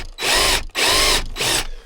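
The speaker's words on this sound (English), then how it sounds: "so I have to drill it out" A power drill bores out a Torx head jam nut holding the cable in a Can-Am Outlander 700 ATV winch spool, sounding as three loud, close, sustained whining bursts separated by brief pauses.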